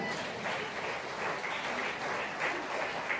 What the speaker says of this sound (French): Applaudissez Jésus, alléluia.